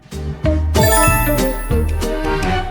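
A phone rings with an incoming call, a bright chiming, tinkling ringtone with repeated melodic notes, loud and close with no talking.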